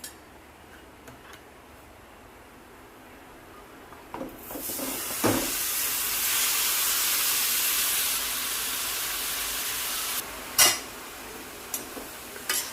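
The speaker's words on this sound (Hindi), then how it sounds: "अभी मैं इसको घी में भून लेती हूँ" Bottle gourd hitting hot ghee in a kadai, a sudden loud hiss that swells and holds for several seconds, with a few clinks of a spoon against the pan and no talk.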